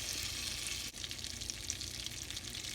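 Half a stick of butter sizzles quietly in a soup pot readied for broccoli cheddar soup, a steady, even crackle and hiss with no voices over it.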